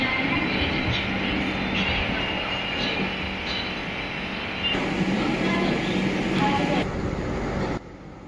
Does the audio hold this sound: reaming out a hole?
no